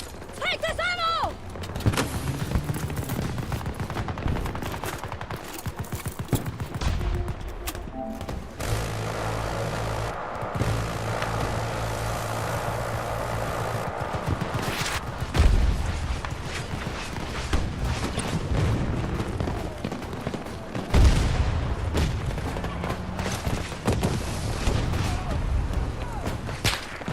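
Explosive-round anti-air gun in a video game firing in bursts among droning aircraft engines and other game noise, while a player talks over much of it.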